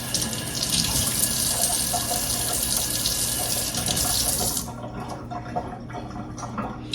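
Fresh thyme is rinsed under a running kitchen tap, a steady loud gush of water splashing into the sink, then changing to a lower, softer flow partway through.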